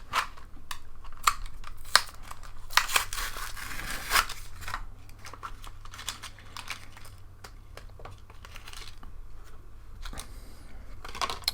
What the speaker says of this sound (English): Blister packaging. Let's just peel this open.